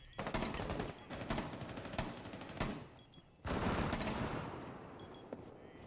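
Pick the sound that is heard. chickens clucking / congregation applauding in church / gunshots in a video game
gunshots in a video game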